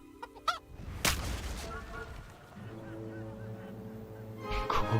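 In the video game Kingdom Come: Deliverance, a loud squawking cry from a rooster as it is shot, followed by a few fainter clucking calls under a low background hum.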